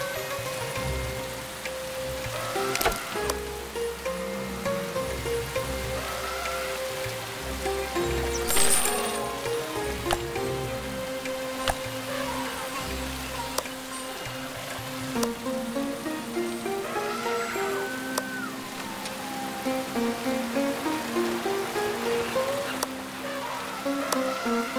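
Rain in The Settlers: The Eastern Realm, a continuous patter of falling drops over a dense mix of game music and scattered clinking effects, with no speech.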